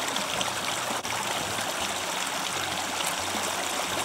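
Water running steadily through a fluid bed gold sluice classifier trap, a continuous rushing, trickling flow heard up close without a break, with a brief tap partway through and no talking.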